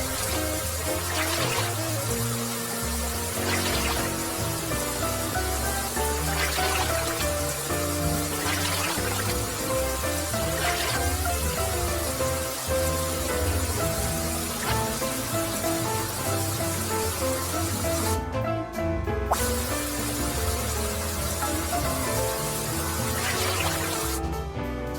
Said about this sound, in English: At the water sprayer to rinse off the mud.